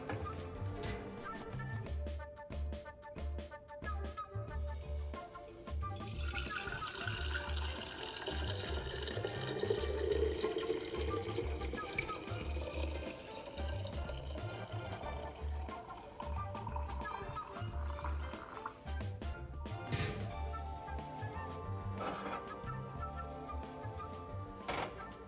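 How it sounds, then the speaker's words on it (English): Hot strained chicken broth is poured into a mason jar as a soft, steady liquid trickle and gurgle, quiet and continuous, with faint clinks and a low rhythmic background hum. "it's time to pour it into a mason jar for storage"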